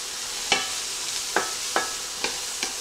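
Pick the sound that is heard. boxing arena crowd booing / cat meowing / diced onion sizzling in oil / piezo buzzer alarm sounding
diced onion sizzling in oil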